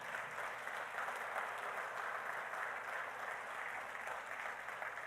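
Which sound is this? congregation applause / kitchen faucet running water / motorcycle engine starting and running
congregation applause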